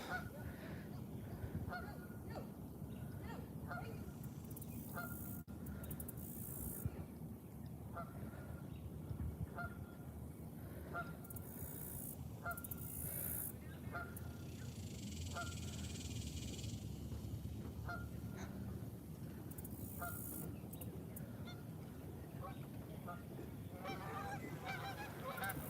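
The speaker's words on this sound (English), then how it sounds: "what you hear are geese" Geese honk repeatedly in the background at a lakeside fishing spot, scattered calls rising over a steady outdoor wash of wind and water noise, with no talk during the stretch.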